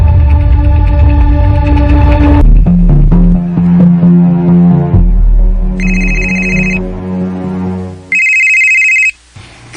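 A telephone rings with an incoming call, sounding as two loud electronic ring bursts after a stretch of music, each ring steady and bright, and no voices are heard.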